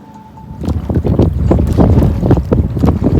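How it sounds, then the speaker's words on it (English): Strong wind on open water buffets the microphone from a motor-assisted small boat near Little Crawl Key, in loud, gusty bursts with low rumbling and no talking. "I did use the motor for some assistance because it's so windy out here."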